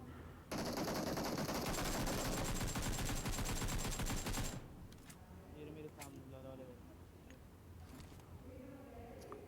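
Sustained automatic gunfire from a PUBG match during an intense fight in Pochinki, a loud rapid burst of shots for several seconds, then scattered single shots and game sounds beneath someone speaking.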